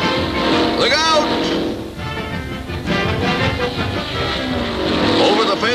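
Motorcycle engines roar and whine together at a race at Daytona Beach, loud revving and passing buzz from a jam of bikes, with someone talking over the noise.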